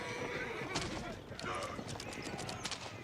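Horse archers in a medieval real-time strategy match neigh and whinny among the clatter of hooves and battle noise, while a commentator talks over the mix.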